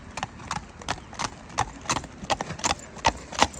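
A four-year-old Friesian sport horse gelding of 16.1 hands, ridden at a walk, its hooves clip-clop in a steady even rhythm at moderate distance, with faint talk in the background.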